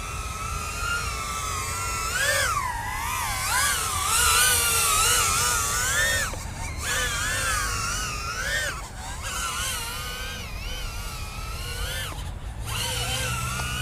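An LDARC KingKong ET100 drone fitted with prop guards flies nearby, its motors giving a steady, buzzing whine that rises and falls in pitch as the throttle changes through rolls, with no talk.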